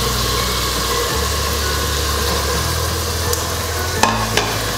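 Mutton pieces hit hot ghee and onions in a pressure cooker, giving a steady close sizzle with a low rumble, followed by a couple of sharp clinks near the end.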